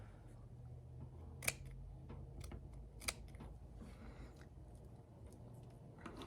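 Quiet scissors snip through fabric strips an inch wide for a no-sew pillow, giving a few crisp, separate cuts spaced a second or more apart against faint room hiss.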